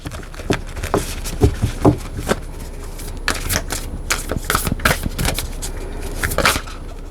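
A tarot deck shuffled up close, its crisp papery riffles and taps coming in uneven clusters, with a short lull midway before another run of brisk flicking.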